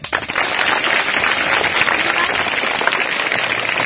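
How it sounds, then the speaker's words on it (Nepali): Loud, dense applause from a whole room of students at a school motivational class, rising sharply and holding steady as a continuous wash of clapping with no talk. "ताली बजाऊ सबैले।"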